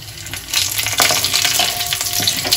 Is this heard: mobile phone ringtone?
no